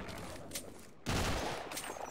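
Rapid automatic fire from a turret in the Half-Life video game, a dense fusillade of shots that swells suddenly loud halfway through and continues as sustained rattling.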